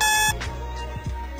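A vehicle security alarm system gives a short electronic beep, followed by a few faint clicks and thumps, heard close and alone.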